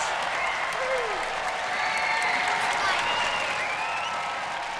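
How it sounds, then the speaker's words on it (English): A television studio audience at a robot combat arena claps in a sustained, even roar that holds for several seconds, with a voice faintly audible under it. "Give a round of applause"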